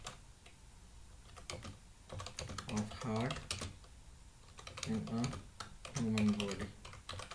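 Someone types a question on a computer keyboard in quick clattering bursts of keystrokes, heard close under a person speaking.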